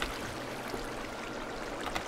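Flowing water in Minecraft, a steady soft rushing trickle heard alone, constant and fairly quiet throughout.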